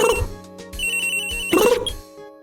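A telephone rings in Phoenix Wright: Ace Attorney, giving two loud electronic trilling bursts separated by a short pause and then fading out.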